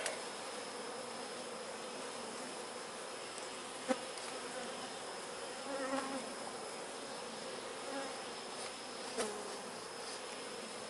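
Honeybees buzzing steadily at an open beehive in August, a dense continuous hum from many bees close by with a few brief louder passes, no talking.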